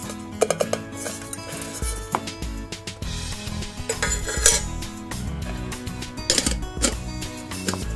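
Metal camping cookware and a riveted kettle clank and clink repeatedly up close, with sharp bright knocks and rattles as pieces are handled and set down.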